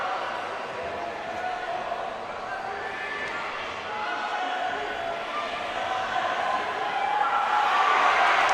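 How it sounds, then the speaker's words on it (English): Spectators at a U19 bouldering qualification round cheer and murmur, a broad crowd roar that rises toward the end as a climber makes a final move, moderately loud and continuous without clear speech. "I hope you can hear the crowd"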